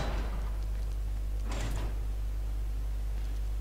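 A door swings open in the survival horror game Resident Evil: Revelations 2, a short mechanical scrape and slide about midway over a constant low background hum.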